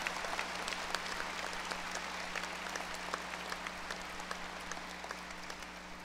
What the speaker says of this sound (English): Graduates, give your families a round of applause